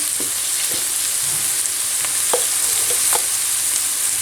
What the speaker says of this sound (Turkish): Havuç ve soğanlar hafif karamelize oldular.